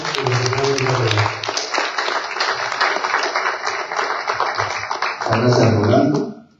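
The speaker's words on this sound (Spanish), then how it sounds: "Recibamos con un fuerte aplauso a Pablo Gutiérrez" An audience at a monthly café conference in Peru breaks into sustained, dense applause to welcome the director of the Peruvian Bible Society, loud and steady for about six seconds, with a few voices mixed in.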